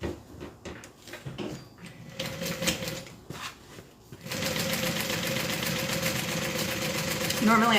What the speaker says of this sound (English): now we're going to open this up and we're going to do a top stitch